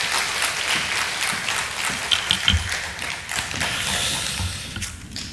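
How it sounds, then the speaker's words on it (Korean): A church congregation at a Friday prayer revival meeting in Busan claps steadily to welcome a pastor to the pulpit. The applause is a continuous wash of many hands, with a few louder thumps scattered through it. "나오실 때 은혜 사모하면서 힘찬 박수로 환영해 주시겠습니다"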